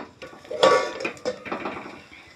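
A metal lid lifted off a pot of steamed sabudana gives a brief clatter and clink of metal on metal, close and short.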